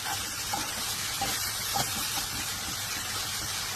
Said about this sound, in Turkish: tekrar kısık ateşte yumuşayıncaya dek kavuruyoruz